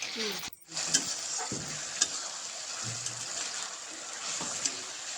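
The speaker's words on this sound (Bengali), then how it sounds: "এটাকে সব কিছু দেওয়ার পরে একটু কষিয়ে নেব" Chilli paneer sizzles steadily in a pan as it is sautéed, with occasional scrapes and clicks of a stirring spoon over a continuous close frying hiss.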